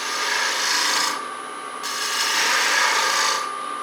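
A spindle gouge shaves beads into wood on a turning lathe, giving a close, hissing rasp in two cutting passes with a short quieter gap between them.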